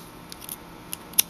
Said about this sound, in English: when you're done, trim off the end